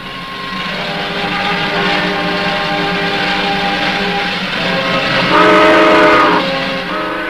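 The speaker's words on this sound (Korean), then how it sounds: "기차는 떠나갔습니다." Train pulling away during the Korean War wartime evacuation, a steady rumbling rail roar with sustained horn or whistle tones that swell louder near the end, no voices.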